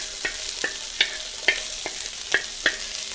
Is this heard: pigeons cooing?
no